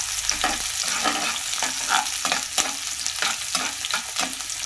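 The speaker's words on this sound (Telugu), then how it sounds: "ఫ్లేమ్ని సిమ్లో పెట్టుకొని ఇలా ఫ్రై చేసుకుంటూ ఉండాలి." Food frying in a pan over a low flame hisses steadily up close, with regular spoon strokes scraping and stirring through it at a relaxed rhythm.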